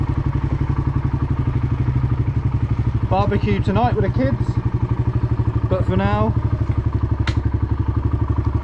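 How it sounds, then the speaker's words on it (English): A motorbike engine idles steadily with a low, even throb, with someone talking over it close by. "motorbike time."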